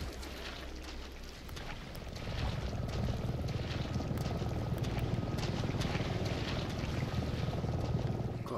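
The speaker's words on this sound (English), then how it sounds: "Got ourselves a helicopter ahead." A helicopter over a swamp in the video game Resident Evil 7 Biohazard swells in after about two seconds into a steady, thudding rotor rumble that stays moderately distant, with faint ambient sounds above it.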